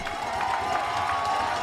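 Stadium crowd cheering and applauding a runner in a European 10,000m race in France, a brief continuous roar of claps and cheers.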